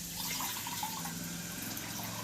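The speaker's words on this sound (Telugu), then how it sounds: "ఇలా వాటర్ వేసుకోవాలి." Water pours steadily into a cooking pot on a stove, a continuous, fairly quiet gushing fill with no talking.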